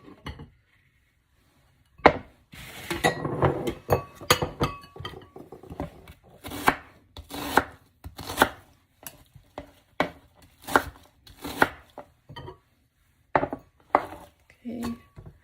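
A knife chops onion on a board, irregular bursts of close, crisp thuds with pauses between, plus a few light clinks of kitchenware.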